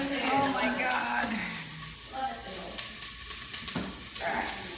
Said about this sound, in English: Put your onions in. Get that beautiful sizzle.